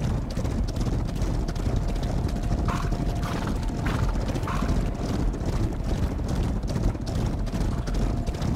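Horses galloping in a race in the video game Rival Stars Horse Racing, a dense, continuous clatter of hoofbeats that stays loud and steady the whole time with no speech.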